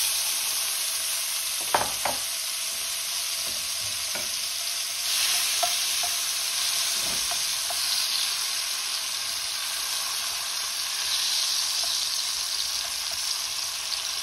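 Porcini mushrooms sizzle steadily in a frying pan after garlic has been browned in oil, a constant bright hiss with a few stirring clicks and scrapes early on.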